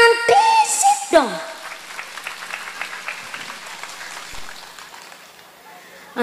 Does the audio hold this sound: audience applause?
yes